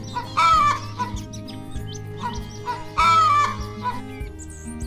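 A hen clucks and squawks in short, repeated bursts, fairly close, with two louder cackling outbursts over a low background bed and no talking.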